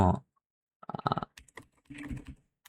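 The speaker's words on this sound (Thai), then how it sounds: "เราสามารถพิมพ์ไปตัวใดตัวหนึ่งเนาะ" Keys tapped on a computer keyboard while a keyword is typed into a search box, coming in quick close clusters of clicks separated by brief pauses, with no talk.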